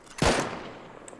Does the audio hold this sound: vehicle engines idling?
no